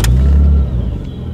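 A G Power tuned car engine runs steadily on a test drive after a fault, a loud low rumble that swells briefly at the start and then settles into an even drone.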